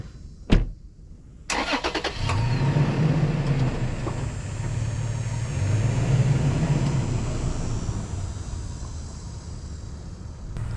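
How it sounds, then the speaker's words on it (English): A car drives along a canal, its steady engine and road rumble continuous throughout after a brief knock and rattle at the start, close and moderately loud, with no talking. "I'm driving along this canal right now"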